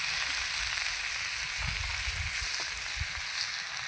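Pumpkin pieces fry in a pan with turmeric, giving a steady, close hiss of sizzling oil with a few low knocks and scrapes from stirring.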